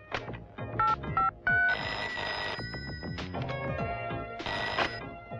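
A telephone rings in repeated bursts with short pauses, loud and close, with no talk over it.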